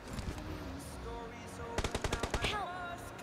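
Gunfire in the battle-royale game BGMI, where an AWM sniper rifle is in play: a quick run of sharp, loud shots bursts out midway over a steady bed of in-game ambience.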